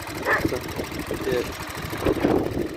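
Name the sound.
Chinese motorcycle engine idling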